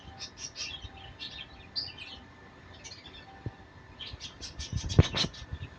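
Caged birds in a garden chirp in quick bursts of high tweets, with short clustered calls coming and going throughout and a couple of soft knocks near the end, with no talking.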